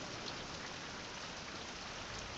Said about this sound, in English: Yay! More rain.